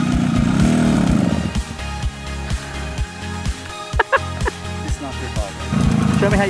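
A child's small four-wheeler ATV engine runs with a steady buzzing drone that dips and stutters into irregular putters midway, then swells again at the end, with no talk over it.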